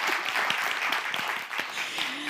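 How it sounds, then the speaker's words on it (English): An audience claps continuously and densely for the whole stretch, a steady, fairly loud wash of hand claps with individual sharp claps standing out now and then. "You can really clap if you want."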